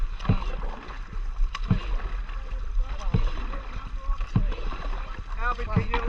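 Dragon boat crew paddling on open water, with rhythmic splashing strokes roughly every second and a half, steady wind and water wash throughout, and voices talking over the paddling.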